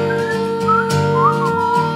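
Whistled tune with rising and falling glides, several held notes, played over continuous instrumental accompaniment.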